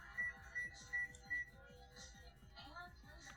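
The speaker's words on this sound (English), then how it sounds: "Somebody's using the microwave." A microwave oven beeps four times in a steady, evenly spaced pattern, fairly faint, over a low rhythmic hum and background noise.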